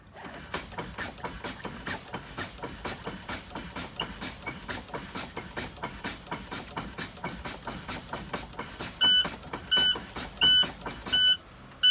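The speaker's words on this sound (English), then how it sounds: "allow my pressure to drop to 60 psi. At that time, the low air pressure alarm should sound." A tractor's low air pressure alarm while the driver pumps the service brake pedal: a steady run of rapid clicking pulses, then sharp, loud beeping bursts near the end, with no talk.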